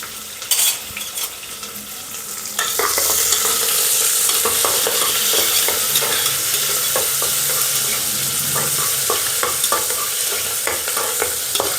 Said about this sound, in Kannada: ಸಣ್ಣದಾಗಿ ಕಟ್ ಮಾಡಿರುವಂಥ ಈರುಳ್ಳಿನ ಹಾಕ್ತಾಯಿದ್ದೀನಿ. ಸೊ ಇವೆಲ್ಲವನ್ನು ಹಾಕಿದ ಮೇಲೆ ಇದನ್ನು ಚೆನ್ನಾಗಿ ನೀಟಾಗಿ ತಿರುಗಿಸ್ಕೊಳ್ಳೋಣ